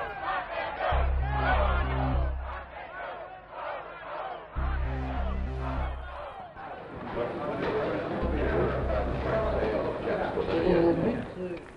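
A large crowd of American Jews roars, shouts and jeers in protest, loud and continuous, with overlapping voices and a repeating low musical drone underneath.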